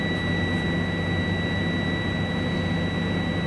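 A truck's diesel engine revs up to about 1,000 RPM inside the cab, giving a steady, dense roar with a constant whine layered on top, held evenly throughout and unaccompanied by speech.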